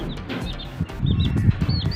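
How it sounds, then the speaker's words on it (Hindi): A chicken clucks and peeps in short, high calls over a low, rumbling background, with the calls clustered near the start and end and no talking. "अगर मुर्गी हुई तो इसका नाम कोमल ही है, अगर मुर्गी ना हुई मुर्गा हुआ तो कुछ इसका नाम बदला लेंगे तब"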